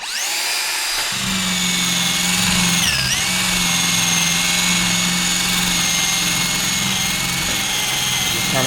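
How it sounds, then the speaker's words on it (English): A rubber eraser wheel spins on a power tool, stripping old adhesive tape from a car during an Audi RS5 carbon fiber rear spoiler install. It gives a steady, high whine that starts abruptly and briefly bogs down in pitch under load. "a little rubber wheel that's used for removing adhesive"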